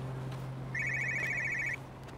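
A telephone rings indoors with one electronic trilling burst of about a second, clear over a low steady hum.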